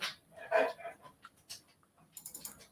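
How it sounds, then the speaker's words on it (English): A dog barks and whimpers in a room during a coding session, a few sharp yelps and whines near the start followed by fainter scattered sounds and light keyboard clicks. "Dog's getting mad about something."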